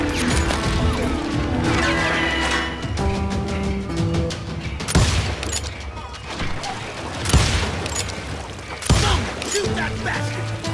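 Gunfire from the Er Pistolero video game, a dense stretch of shots and crashing impacts under a busy music-and-effects mix, with heavier blasts landing near five, seven and nine seconds.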